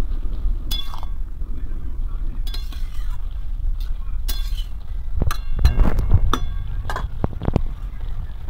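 Clinks from the metal lid of a cooking pot being set back on as shapla (water lily stems) cook in fish oil, several sharp taps in a row with stirring noises in between.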